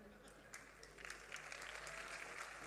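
Scattered clapping from an audience at a comedy evening during a festival in Kanpur Dehat, faint and distant, rising slightly after the first second and continuing unevenly to the end.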